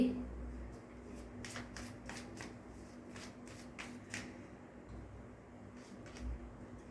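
Tarot cards shuffled close by, a series of quick riffling flicks and soft card snaps over a steady low hum, with no voice during the shuffling.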